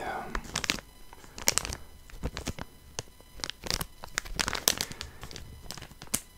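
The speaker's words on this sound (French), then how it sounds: "Je trouve que le bruit du plastique peut être assez agréable." Plastic packaging around small objects from Japan crinkles close to the microphone, a busy run of sharp crackles and rustles with uneven bursts throughout. No talking is heard.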